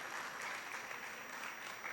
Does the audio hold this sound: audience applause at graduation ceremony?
yes